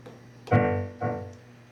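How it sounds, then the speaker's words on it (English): Two distinct notes on an electric piano struck about half a second apart, each ringing with bright harmonics and decaying smoothly, heard alone at moderate volume. "This is the sound of a piano."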